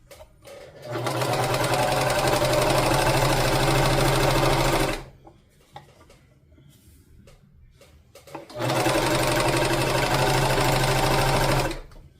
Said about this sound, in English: Test my serger, make sure I'm getting the stitch that I want with these two particular fabrics.